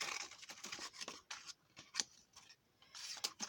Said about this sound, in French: je la découpe avec mes ciseaux